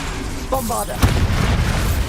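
A Bombarda spell explosion in the Hogwarts Legacy video game lands as a single sharp, booming burst midway, after a brief vocal cry, within a steady bed of combat noise.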